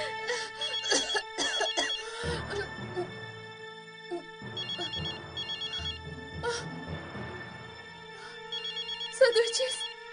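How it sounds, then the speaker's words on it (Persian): A telephone being rung to track it down rings in short repeated bursts through a loud indoor scene, heard under people talking and moving around. "صدای تلفن می آید"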